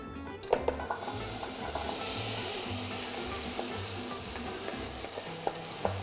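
Pineapple, tomato and zucchini cook together in a pan over medium heat, giving a soft continuous sizzle with occasional utensil taps and stirring clicks, close but fairly quiet, no talking.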